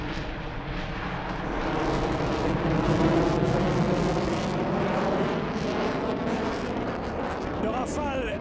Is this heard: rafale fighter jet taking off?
yes